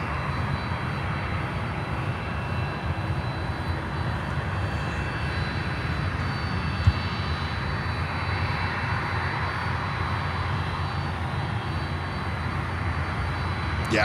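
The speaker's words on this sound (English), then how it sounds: "And there's cargo jet 767." A Cargojet Boeing 767 cargo jet approaches to land at Miami airport, giving off a steady, distant broadband engine roar that holds at an even level throughout with no talking.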